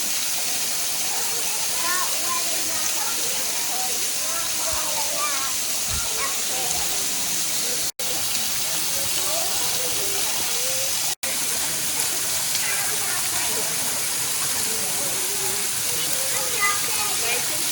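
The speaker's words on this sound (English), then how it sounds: "Waterfall." Steady broadband rush of a forest waterfall, continuous and fairly close, with faint voices now and then beneath the roar.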